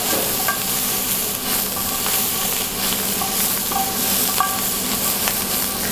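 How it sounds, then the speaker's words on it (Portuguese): Vegetables sizzle and fry in butter in a pan, a steady close hiss broken by occasional light scrapes and taps of stirring, with no talking. "é só saltear os legumes na manteiga, acertar o sal e a pimenta"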